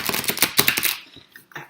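Tarot cards being shuffled by hand, a dense run of quick riffling flutters and snaps for about a second, then a few scattered soft taps, close and fairly loud.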